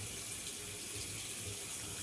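Water streams from a bathroom tap at a sink during a face rinse, a steady continuous splashing rush that is close and moderately loud, with no voices.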